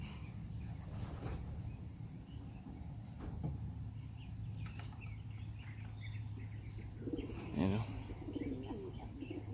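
Pigeons cooing softly after a bath in a loft, with a brief burst of wing flapping near the end, all faint against a steady background hum.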